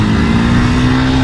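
Hero Splendor Plus and Splendor Pro motorcycles rev steadily together during an outdoor tug-of-war contest, a loud, continuous engine drone with a steady tone and no pauses.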